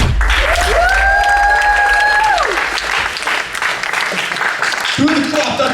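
An audience claps and cheers loudly and continuously at the close of a recorded speech, with voices rising above the applause throughout.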